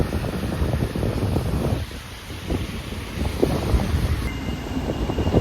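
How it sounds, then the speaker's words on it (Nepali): Strong typhoon wind in Okinawa, Japan, roaring and buffeting a nearby microphone in loud, continuous gusts that dip briefly before surging back, with no talking. "हावा चाहिँ फेरि बडा बवाल छ"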